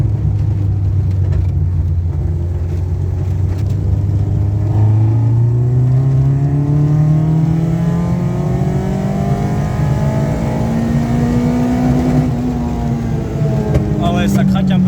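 A Peugeot 205 GTI engine revs steadily upward toward 8,600 rpm, pitch climbing to the limiter and holding there, loud and close, with a brief dip before rising again.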